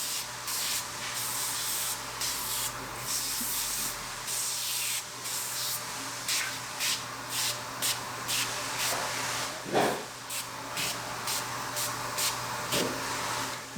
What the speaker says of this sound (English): So we're gonna spray that.